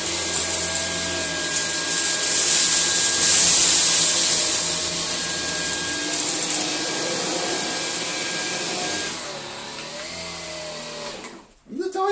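A cordless stick vacuum cleaner picks up rice along floor edges, its loud, steady motor whine holding for several seconds, then falling away as the machine stops near the end.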